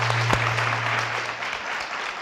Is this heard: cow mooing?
no